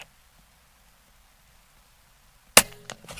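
A custom Air Venturi Avenger .25 air rifle fires a single sharp, loud shot near the end after near silence, with a brief ringing tail.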